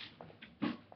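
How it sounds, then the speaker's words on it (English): Indoor dogs react to a cat outside with a quick whimpering yelp, one short sharper cry in the middle over quiet room tone, faint and over in about a second. "My dogs are gonna go crazy."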